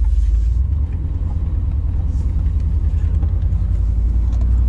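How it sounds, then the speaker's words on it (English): An old pickup truck engine runs with a deep, steady rumble, heard close up from inside or near the vehicle, with no voices. "Brown truck is running good so far"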